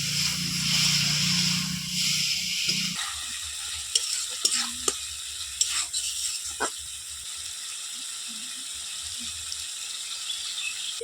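Ground spices, garam masala and coriander powder, sizzle with chopped tomato in a pan as a plantain kofta curry cooks; a steady frying hiss runs throughout, with a louder sputter at the start and scattered scrapes and clicks of stirring.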